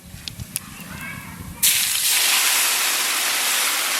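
Bay leaves and cumin hit hot oil left from frying a hilsa fish head: after a quieter stretch with faint voice, a sudden loud sizzling hiss bursts up and carries on steadily, close by.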